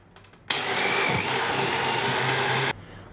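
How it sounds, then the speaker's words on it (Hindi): A mixer grinder switches on abruptly and runs at a loud, steady whine while grinding butter into a fine paste, then cuts off sharply; faint kitchen noise before and after. "मिक्सर ग्राइंडर को हम ऑन करेंगे और अच्छी तरह से इसका फाइन पेस्ट बना लेंगे।"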